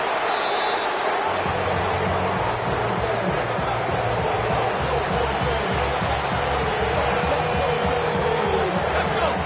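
A stadium crowd at an American football game swells in a broad, continuous roar ahead of a third-and-long play, loud and sustained with a low rumbling hum beneath.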